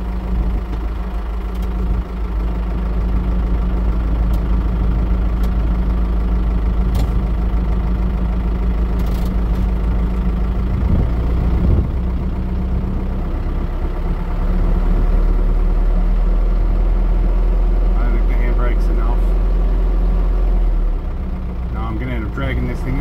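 A 6x6 Land Rover Perentie engine runs steadily while the vehicle sits bogged, a loud low drone that continues throughout with a few clanks and short voices over it.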